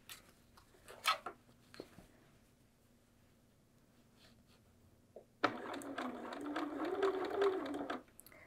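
A sewing machine stitches bias binding onto a fabric bag, starting with a few scattered clicks and handling noises, then running in a loud, close burst for about three seconds before stopping.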